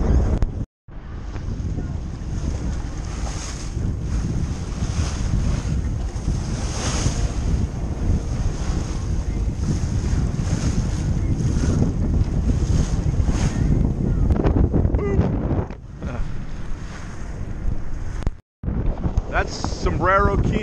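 Strong wind buffets the microphone aboard a sailboat near Sombrero Key, over the continuous wash of waves at sea, loud and unbroken, with a couple of brief dropouts.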